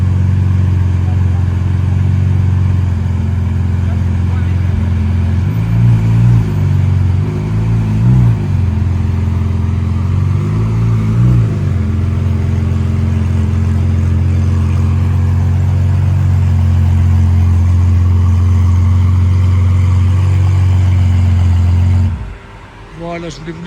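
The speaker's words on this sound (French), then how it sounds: "je voulais vous laisser apprécier le V12 atmosphérique jusqu'au bout" A Qatari-plated SVJ 63 with a naturally aspirated V12 and Gintani exhaust idles loud and close, blipping through several throttle revs before cutting off at the end.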